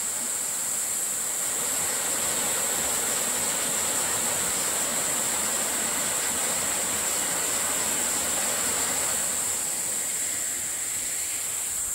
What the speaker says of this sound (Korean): 이곳이 선녀폭포 전망대 같습니다.